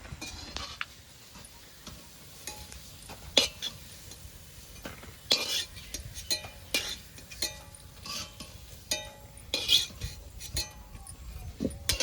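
Fried cabbage pakoras are lifted out of a pan, with scattered metallic clinks and scrapes of a utensil against the pan over a faint background of sizzling.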